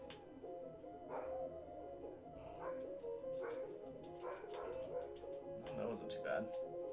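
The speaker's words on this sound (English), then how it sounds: "My dog is barking at a cat, and it's rather annoying." A dog barks at a cat in repeated short yaps somewhere in the room, heard under steady video game music and someone talking.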